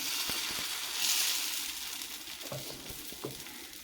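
Jowar dosa batter sizzling in a hot pan as it is moved around, a soft steady frying hiss with a few light scraping touches.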